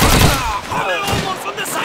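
Gunfire from a World War II battle in Call of Duty 2, a dense rattle of shots and bursts packed close together under shouted voices and battle noise.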